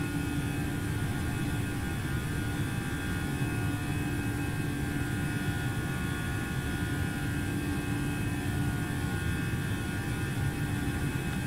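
Airbus A321 CFM jet engines roar in the X-Plane 11 flight simulator, a steady, dense drone with a constant hum and no pauses, heard alone throughout.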